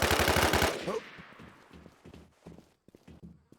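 A loud, close burst of rapid automatic gunfire in the survival shooter WarZ lasts under a second, then gives way to quieter scattered thuds and faint movement.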